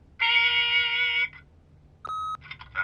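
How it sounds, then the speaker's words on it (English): Answering machine beep in The Wolf Among Us video game: a long, loud electronic tone followed by a shorter beep and a few brief chirps. "leave a message at the beep and we'll get back to you as soon as"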